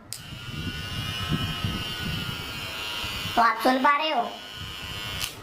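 A Kemei KM 809A hair trimmer hums steadily with a high, even electric buzz, while someone speaks briefly over it partway through.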